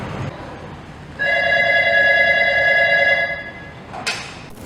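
A telephone rings steadily for about two and a half seconds during a classroom phone-call role-play, loud and close, with a brief clack as it stops.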